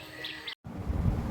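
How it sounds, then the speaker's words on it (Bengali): In a bamboo grove, birds give a couple of faint, high chirps against a soft rustling background, followed by a short gap and a low, rumbling outdoor noise. "চারদিকেই শুনতে পাবে চারদিকেই পাখির ডাক"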